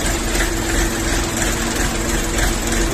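An Orion 24 hp mini tractor engine idles close by, a loud, steady low chugging drone with an even rhythm and no voices.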